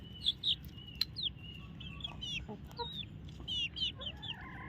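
Chickens clucking and chirping in a steady, overlapping chorus, with brief high calls rising above a low background hum.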